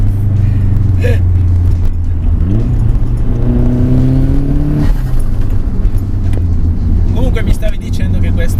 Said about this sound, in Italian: sentire la turbina che sbuffa